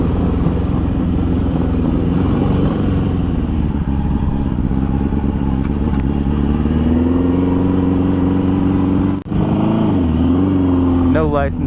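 A barn-find Honda CB750 motorcycle engine revving, dropped into gear at high RPM, running loud and close with rising and falling pitch and a brief dip near the end, with a voice talking over it.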